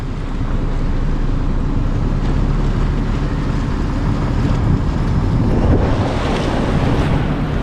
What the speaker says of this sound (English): this is where the river meets the sea